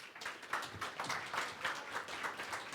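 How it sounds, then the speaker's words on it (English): Faint, steady applause from a conference audience greeting panel speakers at a marketing technology session, a soft continuous patter of many hands heard from a distance. "please make a round of applause for John, Moshe, and James, who will be joining me"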